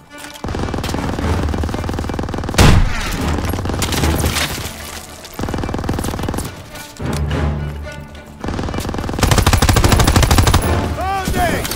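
Sustained bursts of machine-gun fire in Call of Duty WW2 rattle loudly in several long volleys separated by brief pauses, with impacts and crashes mixed in.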